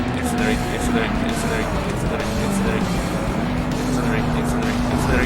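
A car accelerating in a Forza racing game, a steady engine drone with a rising tonal whine held throughout, loud and continuous while someone talks over it.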